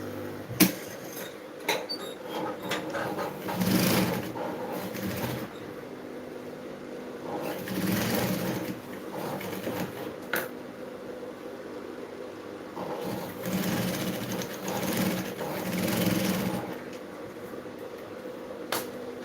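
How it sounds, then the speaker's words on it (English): A sewing machine stitches the shoulder seam of fabric and lining in several whirring runs of a few seconds each, with pauses between them, close and moderately loud. "I'll start sewing."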